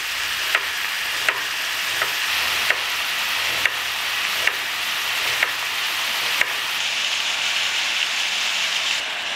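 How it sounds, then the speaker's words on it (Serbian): Meat frying in a pan, a loud, steady hissing sizzle with regular sharp knocks, likely chopping, at roughly one-second intervals, and no talking. "Dok se meso prži"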